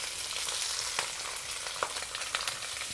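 Shredded ginger and thinly sliced onion drop into a wok alongside a frying fish, giving a close, steady hiss of hot oil with a few sharp crackles and pops and no talk.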